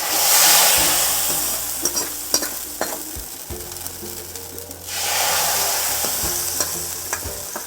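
Mustard seeds and curry leaves temper in hot oil for okra sambar, making a loud sizzle that fades and swells again, with scattered sharp clinks of stirring and no talking.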